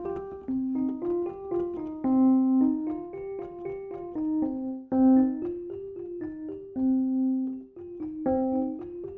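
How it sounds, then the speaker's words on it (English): Sampled Westwood Electric Home Piano plays a short melodic phrase, the original notes layered with a quieter pitch-shifted copy underneath, clear and close with no voices. "This allows you to sort of one-click pitch shift the samples up and down"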